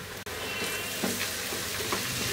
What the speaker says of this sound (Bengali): দিয়ে একটু নাড়াচাড়া করে নিব যাতে রসুন আদার পানিটা শুকায় যায়